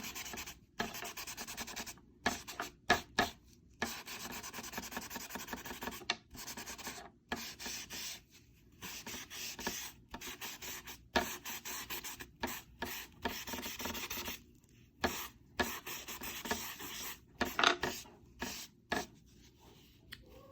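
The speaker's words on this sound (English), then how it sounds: "go ahead and scrub in that black a little." Black chalk pastel scrubbed onto paper in quick, close rubbing strokes, a soft dry scratching that comes in short bursts with brief pauses between them.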